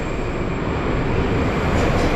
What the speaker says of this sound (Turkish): gördüğünüz üzere her 2-3 dakikada bir metro geliyor